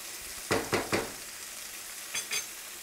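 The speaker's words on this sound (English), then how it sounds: "Okay, they're just going to saute" Vegetables sautéing quickly in a pan give a faint sizzle, broken by a quick run of three scraping stirs and then two more a moment later.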